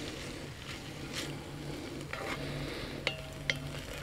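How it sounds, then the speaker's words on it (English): Bacon sizzles faintly in a cast iron Dutch oven, a soft continuous hiss broken by a couple of light metallic clinks near the end, with no talk. "so this will start sizzling soon."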